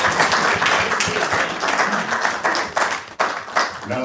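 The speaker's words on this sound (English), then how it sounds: "Give them a hand, give them a round of applause." An audience claps and applauds for Bard College students at a Black Panther Party film event, a dense, steady wash of many hands lasting the whole stretch with one brief dip near the end.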